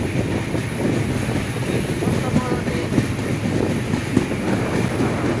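Steady, loud rumble and rattle of a moving passenger express train, heard from inside the front carriage behind a diesel locomotive on a Bangladeshi intercity route, with constant wheel-on-rail clatter throughout.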